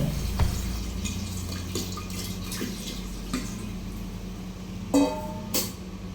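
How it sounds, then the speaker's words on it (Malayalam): Water poured into a ceramic jar for pickling ripe mangoes, a soft steady trickle and splash with a few small knocks and clinks, heard close up and alone. "ഞാൻ ഈ ഭരണിയിലേക്ക് ആവശ്യത്തിന് വെള്ളം ഒഴിച്ചു കൊടുക്കുന്നുണ്ട്."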